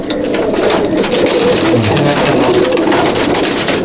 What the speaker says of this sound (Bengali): এটাও একটা পায়রা